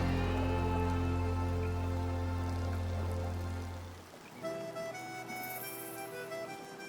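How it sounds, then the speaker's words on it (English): Warm rain falling outdoors on a forest hike near coffee plantations: a continuous, fairly loud patter of drops on surfaces, with a steady low hum underneath that cuts out partway, leaving the rain alone. "It's kind of a warm rain out here."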